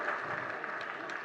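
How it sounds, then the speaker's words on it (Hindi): An audience claps briefly during a Jain monk's spiritual discourse, Vidhya Sagar Ji Maharaj. The clapping is soft, distant and steady, a short patter with no talk over it. "उसकी तालियां बज रही आज"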